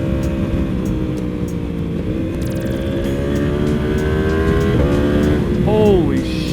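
A heavily modded Yamaha R1M sport bike engine holds a high, rising whine as it accelerates, loud and close, with a quick shift and falling blip near the end, people talking faintly underneath.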